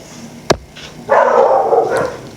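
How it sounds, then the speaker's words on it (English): A dog lets out a sharp single bark, then gives a longer strained, whiny bark-howl close by, alone with no talking. "why are the dogs barking?"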